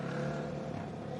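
Race motorbike engine at the Don River Dash, its exhaust baffling likely blown, droning loud and steady with a rough, raspy harmonic tone throughout a short burst.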